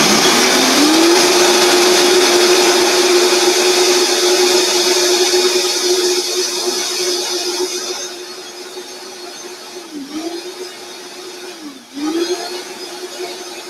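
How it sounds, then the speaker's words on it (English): A Vitamix blender grinds dry nuts with a loud, steady motor whir, the pitch dipping twice near the end as the load shifts and the nuts clunk around inside. "You hear the nuts clunking in there."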